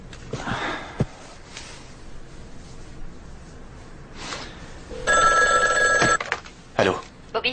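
Mobile phone ringing with a bright electronic ringtone that starts partway through and repeats, following sniffing and breathy sounds and brief voices nearby.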